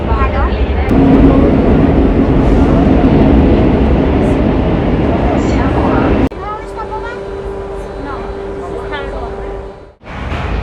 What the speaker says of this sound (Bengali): তো এখন মেট্রো রেলের ভিতরে 5টা স্টপেজের পরে হলো সেই ডুমো